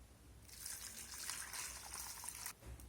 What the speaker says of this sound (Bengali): সয়াবিনটাকে আমি গরম জলে দিয়ে দিয়েছি